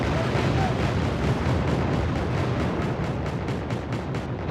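In the Wargame AirLand Battle video game, cluster bombs go off as a dense, continuous rumble of rapid explosions, loud and roiling, with faint rhythmic bursts toward the end.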